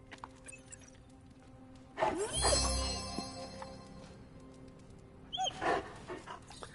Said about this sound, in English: Yeah, pet the dog.